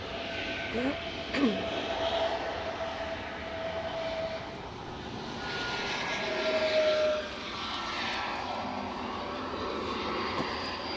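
An Airbus A350 jet taxiing at Edinburgh Airport gives a steady, moderately distant engine roar with a faint whine. Brief speech-like sounds occur early on.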